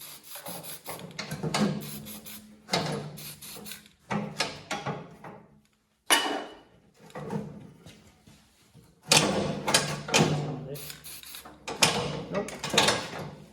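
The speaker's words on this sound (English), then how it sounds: "just clean it up with the wire brush here so we can spray paint it a little bit" A wire brush scrubs back and forth over a weld on a Cub Cadet 122 garden tractor and QA42 snow thrower, cleaning the metal before painting; repeated close, loud raspy bursts with brief pauses between strokes, no talking.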